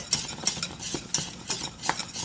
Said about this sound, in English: Continuously stirring. And it's getting good and thick, which is what we want.